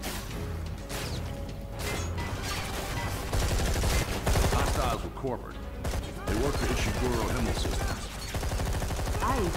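Gunfire in the video game Deep Black: Reloaded, with rapid bursts of shots and sharp impacts clattering over a steady busy game mix, loud and continuous throughout.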